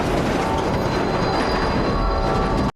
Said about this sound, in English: we notice the train is going way too fast